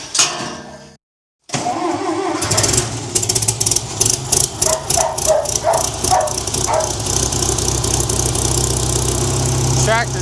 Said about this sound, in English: Tractor just a little bit cold.